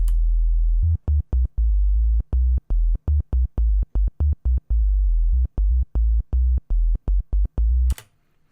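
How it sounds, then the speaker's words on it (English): A low, pure sine tone pulses on and off in a stuttering, irregular rhythm, with short gaps between loud bursts and a click at the end. "this is just a basic sine wave"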